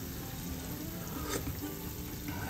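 Tinola soup with ginger boiling in a pot, giving a steady, close bubbling and sizzling wash that holds even throughout without pause.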